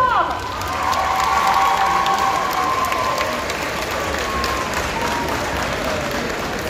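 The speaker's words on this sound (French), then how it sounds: "Vous pouvez l'applaudir encore très fort." Audience applause at a cosplay contest during a geek festival in Bordeaux, a steady, dense clapping from a crowd that holds for several seconds with a faint voice briefly over it.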